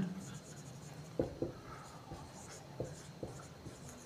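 Writing on a board during a chemistry lesson produces a few short, scratchy strokes and soft taps in small bursts, heard faintly beneath a voice.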